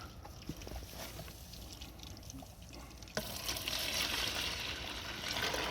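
Liquid pours steadily into a crop sprayer tank with a gurgling, splashing rush that grows louder and brighter partway through, with faint background noise and no speech.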